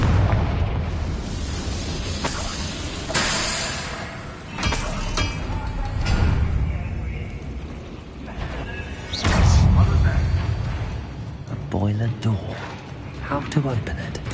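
A Confringo blasting spell goes off in Hogwarts Legacy, with several loud booming bursts and crackling mechanical clatter spread across the scene, and a voice speaking over parts of it.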